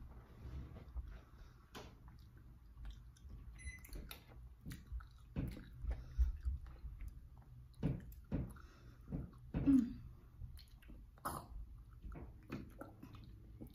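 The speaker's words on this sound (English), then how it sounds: "Corn is all crunchy." Someone eats cold, unheated corn, producing soft repeated crunching and chewing bites, close and quiet, with brief pauses between mouthfuls.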